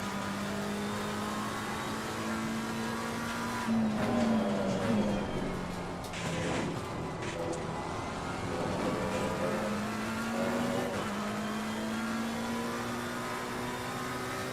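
A McLaren 720S race car engine in Assetto Corsa Competizione at Imola drones steadily throughout, its pitch sliding up and down with revs, with a brief louder surge partway through.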